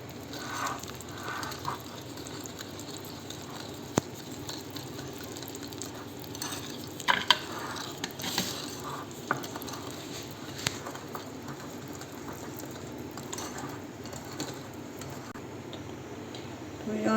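Pancake batter made with milk is stirred in a bowl, with faint, irregular scraping and light clicks of the utensil, quiet and close, spread over a long stretch without voices.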